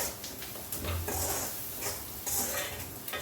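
Onions fry in a pan, heard as a soft, steady sizzle with intermittent scrapes and taps of a utensil against the pan. The sound is quiet and close, with no talking.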